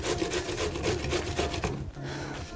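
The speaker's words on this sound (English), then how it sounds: "Just use a grater and grate the pickles." Pickles rasp rhythmically against a hand grater in a steady run of quick, close scraping strokes that stop near the end, with no talking.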